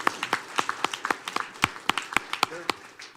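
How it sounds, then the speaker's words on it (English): A small group at a city council meeting claps for a youth 8U football team, with sparse, uneven individual claps ringing out in a room for about three seconds. "Can we give them a round of applause?"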